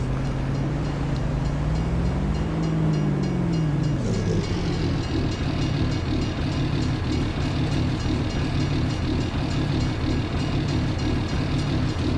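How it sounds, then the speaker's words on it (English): Train rolling past in Farming Simulator 22 on a Missouri farm map, a steady loud rumble with a rising then falling horn-like tone early on, followed by continuous rail clatter with no talking. "Oh, great, the train."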